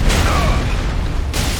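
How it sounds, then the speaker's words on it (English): In the video game Elden Ring, an artillery shot explodes as a loud, dense booming blast that fills the moment, followed by a second sharp burst near the end. "there's a friggin' artillery thing here somewhere"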